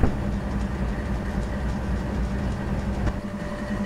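A heavy freight train in the Open Rails simulator, 1,500 metres and 17,000 tonnes with a helper at the tail, pulling away from a yard with a dense low rumble and faint clicking, no talk.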